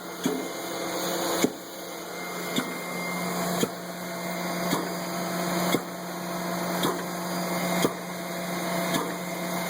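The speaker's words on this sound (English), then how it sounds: "you can see the pump is cycling at a pretty high rate" A liquid pump runs at a high cycling rate against back pressure, a steady mechanical drone punctuated by regular loud knocks about once a second, close and continuous with no talk.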